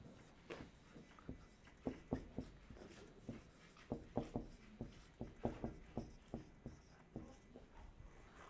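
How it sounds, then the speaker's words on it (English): Chalk or marker writing a sentence on a classroom board, heard as a steady series of short, sharp taps and strokes in an irregular rhythm, fairly faint and close, with no talking. "Now I'm going to write a third sentence."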